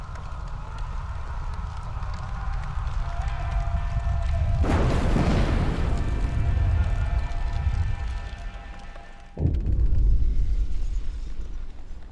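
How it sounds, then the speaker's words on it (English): An explosion bursts from the generator in the survival city-builder game Frostpunk, a loud broadband blast rising over a steady rumbling game ambience, followed by a sharp second impact and a sustained roar. "Sounds of explosion come from the generator, and then din of terrified voices."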